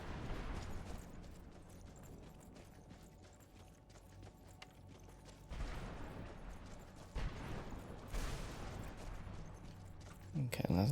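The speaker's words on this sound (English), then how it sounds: "there's a lot of thunder" Thunder rolls through a dark location in the video game Skyrim, with several deep, broadband rumbles swelling over a low ambient bed, the loudest cracking near the end.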